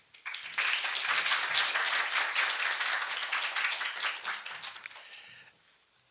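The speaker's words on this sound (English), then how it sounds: "Please give him a warm round of applause." An audience at the 2024 Korean-German Climate and Environment Forum in Seoul gives a warm round of applause. The clapping swells quickly, holds thick and even for several seconds, then thins out and fades.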